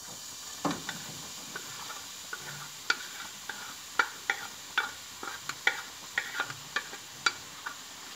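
Carrots frying in oil in a pan, a soft steady sizzle with scattered crisp pops and crackles spread irregularly across the clip, close and fairly quiet, with no talking.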